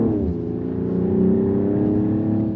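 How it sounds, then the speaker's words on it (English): A 2024 Mercedes-AMG GLE 53 4MATIC+ SUV with a 3-liter inline-6 turbo engine and hybrid assist runs in a loud, steady drone with a slight rise in pitch, heard close with no talking. "The 2024 AMG GLE 53 SUV has an AMG Enhanced 3-liter inline-6 turbo engine with a hybrid assist"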